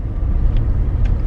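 A car with low oil and little fuel drives along at road speed, its engine and road rumble steady and close throughout, with no talking.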